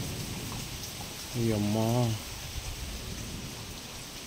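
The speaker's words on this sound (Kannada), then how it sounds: "ಎಂಥ ಮಳೆ ಗೊತ್ತಾ ಫ್ರೆಂಡ್ಸ್ ಈ ಕಡೆ" Heavy rain falls in a dense forest with a steady, even hiss, broken briefly by one short exclamation from a nearby voice.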